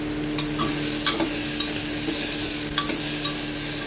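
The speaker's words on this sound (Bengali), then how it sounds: "আলুটা দিয়ে একটু নাড়াচাড়া করব।" Potatoes and onions stirred in a frying pan while making kabuli chana, with a steady sizzle and scattered scraping spoon strokes, close and alone without talk.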